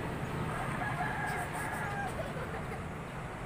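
Rooster crowing from below in a rural farm setting, a drawn-out call rising over steady outdoor ambience, moderately distant, with a faint hint of other fowl.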